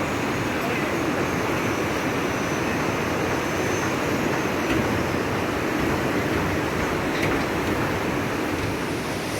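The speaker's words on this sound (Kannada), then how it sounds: "ಕೆಳಗಡೆ ಆ್ಯಸ್ ಯೂಶುವಲ್ ಗಂಗಾ ಜೋರಾಗಿ ಹರಿತಾ ಇದೆ" Ganga river in Uttarkashi rushing strongly below a bridge, a dense, constant roar filling the whole clip with no voices.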